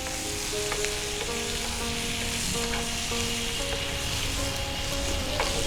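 Paneer and onion fry on a hot tawa for tawa chili paneer: a steady, close, dense sizzle runs throughout with no voices, while faint tonal lines sit underneath.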